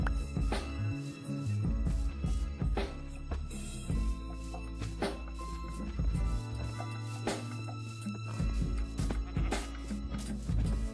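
Sheep in the video game Minecraft Bedrock, repeated bleats layered over dense background music and game sounds.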